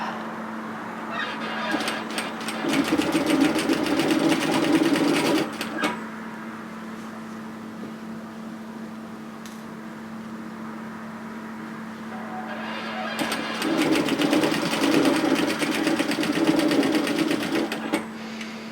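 A sewing machine stitching up the front edge of a knitted cocoon cardigan, running in two loud sustained whirring bursts with a quieter idle pause between them.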